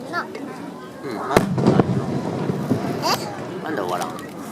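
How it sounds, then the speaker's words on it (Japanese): Summer festival fireworks launched over the sea at Yurihama, with a sharp loud bang near the middle and other booms and crackles through wind noise, while people talk nearby. "ここの花火って終わらんな。"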